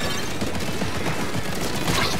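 Crab Tank cannon blasts in Splatoon 3, a dense, steady barrage of rapid booming shots that holds at constant loudness, with no talk over it.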